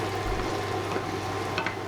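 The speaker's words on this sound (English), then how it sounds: "you've just put in your chopped onion. You need to fry this for about 5 minutes." Chopped onions fry in a pan with meat juices, giving a soft, steady sizzle with a low hum beneath it. A couple of faint stirring scrapes come near the end.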